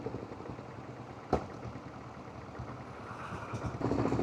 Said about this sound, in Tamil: இப்போ என்ஜின் பிரேக்கிங்கில் தான் போகுது.